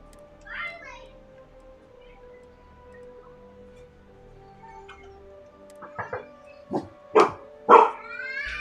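A dog in the Starfield game barks in a quick series of sharp yips near the end, each louder than the last, after a mostly quiet stretch with a faint voice early on.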